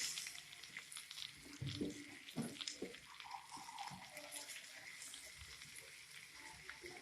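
Brinjal (eggplant) slices fry in a pan over a flame, giving a steady, fairly quiet sizzle with a few louder crackles and scraping bursts early on. No one talks.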